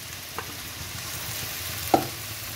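Jackfruit and spice mixture stirred in a frying pan, a continuous close sizzle with two soft clicks of a spoon against the pan, the second sharper.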